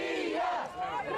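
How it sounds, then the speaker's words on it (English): A hostile crowd jeering and shouting insults at a UN envoy, a brief surge of many raised voices yelling together at moderate distance. "with the jeers and insults of the crowd ringing in his ears"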